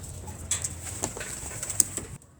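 A grizzle racing pigeon coos softly and faintly at a pigeon derby, a few brief low calls over quiet outdoor background noise.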